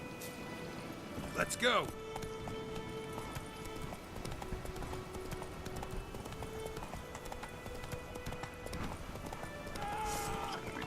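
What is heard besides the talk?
horse Roach galloping in video game Witcher 3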